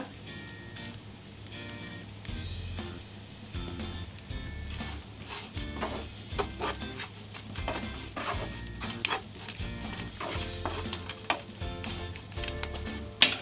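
Rice flakes upma being stirred in a hot pan after salt is added, with a close, continuous sizzle and rhythmic scraping and clinking of a spoon against the metal, no voices.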